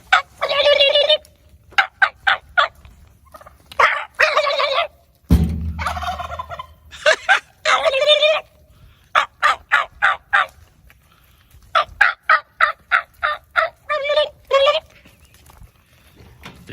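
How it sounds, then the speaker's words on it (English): Turkeys gobble in rapid repeated bursts, loud and close, with a sharp thump partway through and short pauses between calls. "The turkeys are talking to me a little bit."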